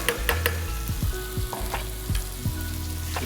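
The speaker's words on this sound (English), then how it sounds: "Now we have that hot pot there, and we're gonna go in with our vegetables." Vegetables for a Bolognese go into a hot pot and fry with a busy, close crackling sizzle, punctuated by several clanks and scrapes of a utensil against the pot.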